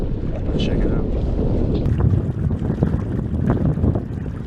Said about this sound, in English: So we're going to get the full effects of the wind here.